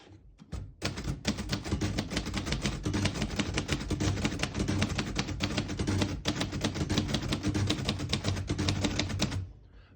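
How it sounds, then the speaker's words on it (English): A 1949 Royal Quiet De Luxe portable typewriter types a line in rapid, steady keystrokes, each a crisp close clack in a continuous burst lasting several seconds before stopping. "type a sentence in red on the next line and switch from black to red"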